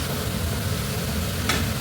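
Fried cauliflower and vegetables for fried rice are stirred in a hot pan, producing a dense continuous sizzle with a short scraping stroke near the end, close and fairly loud.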